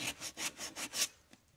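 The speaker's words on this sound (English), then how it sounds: "Sanding with the grain" Five rhythmic strokes of sandpaper rubbing with the grain on a wooden phone amp, close and dry, followed by a faint tap.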